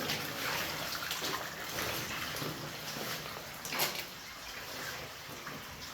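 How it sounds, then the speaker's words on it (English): Steady rushing and splashing of water flowing out of an abandoned mine, an even broadband wash with occasional louder gurgles, heard close by. "There's a considerable amount of water flowing out of it."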